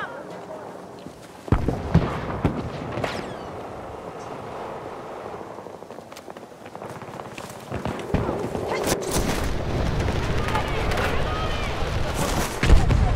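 Gunfire in Battlefield 2042 during a hardcore match, loud scattered shots and bursts with heavy booms, rising in density toward the end amid battlefield rumble.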